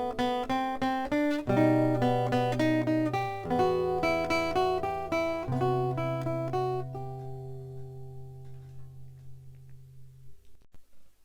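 A guitar plays a passage of Valse triste: plucked notes over sustained bass tones in a steady waltz-like phrase, close and clear, ending on a held chord that rings out and decays into near silence.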